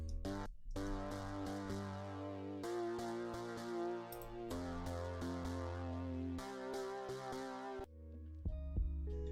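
A gritty, buzzy bass synth plays a repeating pattern of sustained notes with short gaps, rich in harmonics, then stops near the end.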